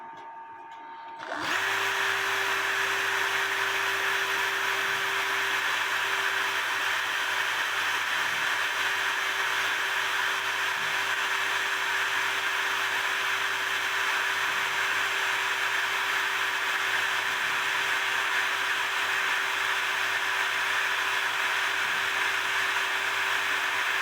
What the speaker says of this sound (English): as you can see, it's drilling a hole.